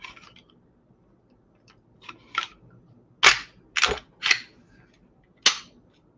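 Sharp metallic clicks and snaps from a Glock 45 Gen 5 pistol as its slide is worked and pulled off the frame, a few scattered faint ticks followed by four louder distinct clacks, close up in a quiet room.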